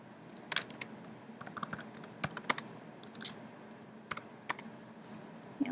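Light, irregular keystrokes on a computer keyboard as a title is typed in a quiet room, with soft clicks arriving in short bursts and pauses.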